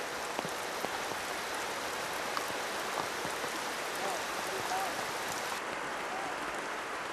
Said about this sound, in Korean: 해먹에 앉아 빗소리를 들으니 정말 밀림에 온 실감이 났습니다